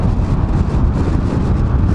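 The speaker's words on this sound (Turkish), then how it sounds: "Bayağı bir rüzgar alıyor burası." Strong wind on a windy hilltop with wind turbines nearby, a loud constant low buffeting roar of gusts battering the microphone, with no voices.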